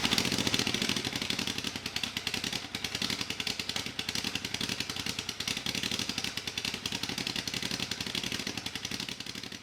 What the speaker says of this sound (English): fire it up with just this DB killer on, see if it actually makes a difference